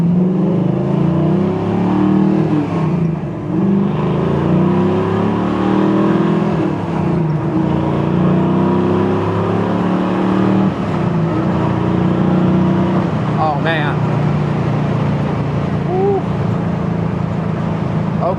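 A 1968 Ford Mustang fastback restomod with serious horsepower drives along, its engine a loud, steady rumble that surges and eases, with a tight U-turn, close and continuous throughout.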